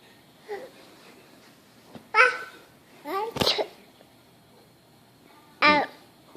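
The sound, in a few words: child imitating a sneeze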